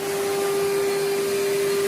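A vacuum cleaner runs steadily while sweeping up spilled snack food indoors, a loud continuous motor whine with a strong steady hum and no pauses.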